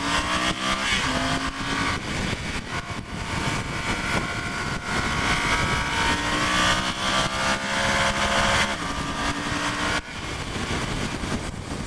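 A Yamaha Super Ténéré 1200 motorcycle accelerates on the road, its engine drone rising through several gears amid constant heavy wind rush, with the pitch climbing and dropping at shifts over about twelve seconds.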